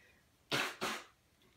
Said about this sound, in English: I really need to blow my nose.